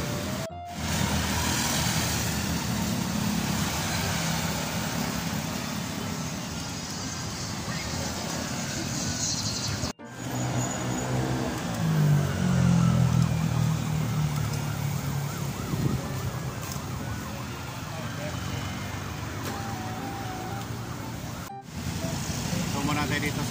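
Moderate road traffic on Quirino Avenue in Novaliches, heard from a bicycle, with a continuous hum of passing vehicles and engines, a siren wailing through part of it, and a person talking over the noise.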